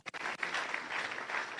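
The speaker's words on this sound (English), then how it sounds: "A bigger round of applause for him." Audience applause at a Ghanaian diaspora event, opening with a couple of sharp individual claps before settling into a steady, fairly faint patter of many hands.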